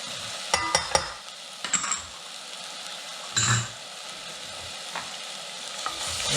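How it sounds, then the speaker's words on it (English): Curry spices, ginger and red chilli sautéing in a pan, soft frying sizzle with a few distinct stirring scrapes and clinks of the utensil, close by and without speech. "And we're going to give it a good stir."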